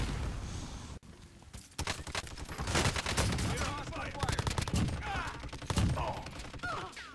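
Gunfire in Call of Duty Warzone, with dense bursts of rapid automatic shots and sharp single cracks over a busy, loud battle din, with voices calling out at times.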